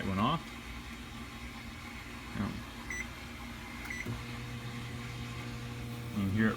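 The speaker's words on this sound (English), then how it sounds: "You can hear it running. Turntable's going. It's working. Microwave is fixed." A repaired microwave oven, fixed with a new door switch, runs with a steady low hum as its turntable turns, a close, even drone with small clicks and knocks near the start and end.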